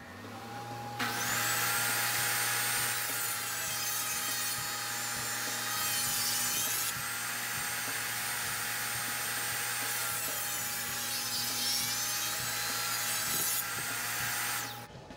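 A power saw rips through a board of wormy maple to slice off veneer, stopping just short of cutting through; a loud, steady whining cut with motor hum runs nearly the whole stretch, close and without talk.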